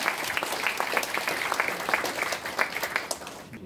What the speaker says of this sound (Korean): 자, 함께 일어나서 박수 한번 쳐주시기 바랍니다.